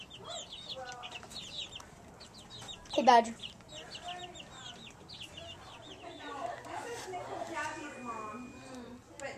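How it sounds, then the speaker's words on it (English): Chickens cluck and chatter nearby in short scattered bursts, with a louder squawk partway through and softer murmuring afterward, while a person speaks briefly over them. "some chickens."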